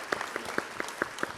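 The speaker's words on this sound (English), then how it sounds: "I'll take that applause." Sparse, rhythmic clapping from a few hands at a fireside chat event, each clap sharp and distinct in a quiet room, lasting only a moment.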